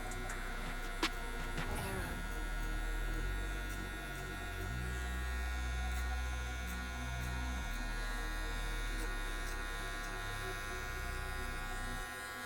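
Electric hair clippers without a guard, lever open, buzzing in a continuous near hum as they cut hair in a flicking motion during a self-administered burst fade, with brief handling noise early on.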